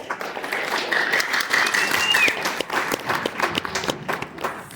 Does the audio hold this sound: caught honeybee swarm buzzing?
no